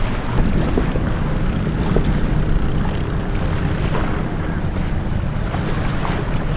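Big racing sailboats in a regatta on San Francisco Bay near the Golden Gate, heard as constant gusty wind buffeting and rushing water from close up.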